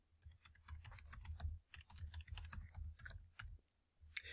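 Quick bursts of typing on a computer keyboard, close and fairly quiet, with irregular clusters of key clicks and short pauses between them.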